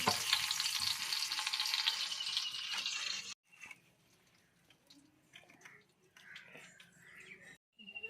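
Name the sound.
cinnamon and whole spices frying in hot oil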